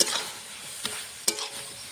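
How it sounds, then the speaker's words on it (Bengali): Vegetables including spinach and stems stir-fried with spices in a pan, a close sizzle punctuated by two or three quick scraping stir strokes, no voices. "সবজিতে দিয়ে কষিয়ে নেব সবজির সঙ্গে মশলাটা"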